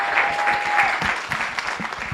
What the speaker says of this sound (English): Y'all, please give her a round of applause.